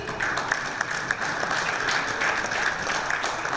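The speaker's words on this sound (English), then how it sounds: "A big thank you to the 5 people that are clapping." A handful of people clapping at a conference's inaugural session in Dubai, thin scattered applause with individual claps audible, moderately distant and steady.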